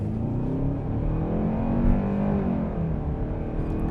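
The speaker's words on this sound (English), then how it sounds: "I am hearing that engine." A 2026 Kia K5 four-cylinder engine hums and climbs steadily in pitch as it accelerates, loud and close, without any speech.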